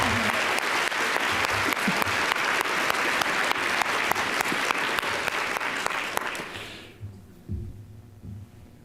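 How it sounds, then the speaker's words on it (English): Audience applause at a keynote conference session, dense and loud steady clapping for about seven seconds, then fading quickly into near silence with a few faint thuds. "I think Grace deserves a second round of applause"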